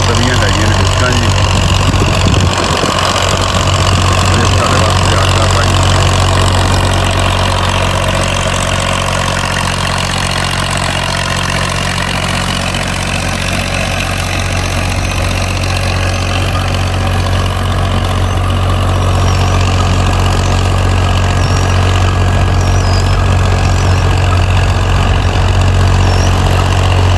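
A 1994 Ursus tractor engine pulling an 18-disc harrow runs steadily at a loud, constant idle-like rumble throughout, with someone talking over it.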